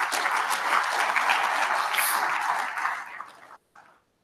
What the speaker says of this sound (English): how about a round of applause for the young alumni doing that?